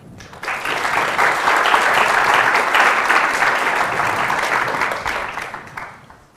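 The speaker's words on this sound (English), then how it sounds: "please give a round of applause to Raphael" An audience at a debate on whether God exists applauds speaker Raphael Lataster, a warm, sustained wash of clapping that swells in, holds steady for several seconds and then fades away.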